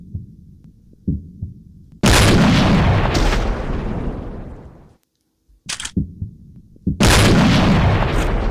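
Heavy sniper rifle shots in a Call of Duty shooter, each a loud, close boom with a long ringing tail, two big blasts separated by a short silence and smaller mechanical clicks.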